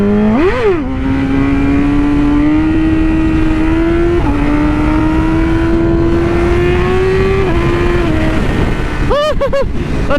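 Yamaha R6 sport motorcycle engine revving loud and close, a sharp rev at the start then a sustained steady drone rising gently in pitch, with quick throttle blips near the end.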